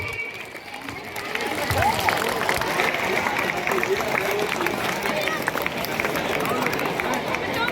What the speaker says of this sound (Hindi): विवेकानंद हाउस वाले हाथ उठा के ताली बजाओ अपने हाउस के लिए